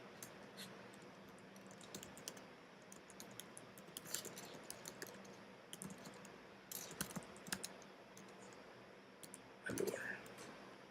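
Someone types a first Apache Spark program on a computer keyboard in Eclipse. Quiet, irregular bursts of key clicks are heard at close range, with a faint murmuring voice in the background.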